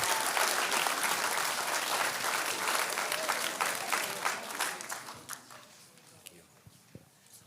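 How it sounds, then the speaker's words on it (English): Audience applause at a school honors assembly, a dense burst of clapping from a seated crowd that stays full for about five seconds, then thins into scattered claps and fades out. "let's give a little round of applause to Mr. Stroman as we get started."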